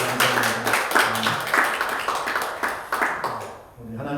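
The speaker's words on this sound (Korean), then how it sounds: "우리 박수 한번 쳐드리겠습니다" A church congregation claps during a Sunday service to honour the fathers. The claps fall in a steady rhythm of sharp beats over sustained tones and a voice, ending with a brief pause.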